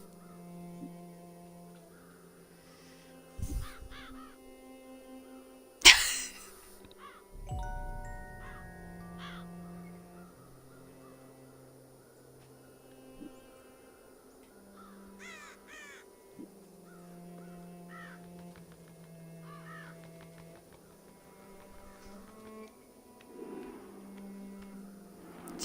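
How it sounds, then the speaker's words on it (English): Crows caw from a deserted village in the video game Child of Light, with scattered calls and clicks spread over a steady low hum of game ambience, with one sharp burst near the start. "there's no people in this village, but there are a lot of crows"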